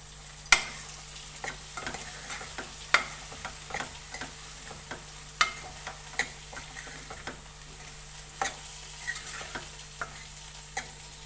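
Vegetables for a mixed curry of potato, eggplant, carrot, tomato and chilli fry in a little oil, giving a steady faint sizzle broken by regular sharp clicks of a spoon stirring against the pan, with no voices.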